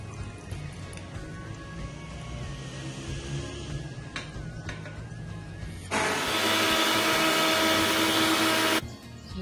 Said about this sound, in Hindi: इसको ब्लेंड कर लिया मैंने।